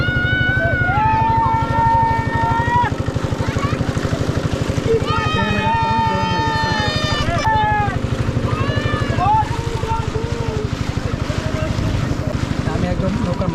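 A motorboat with a steady chugging engine carries passengers across cold river water at a hill-country border point. Nearby voices talk over the constant engine throb throughout.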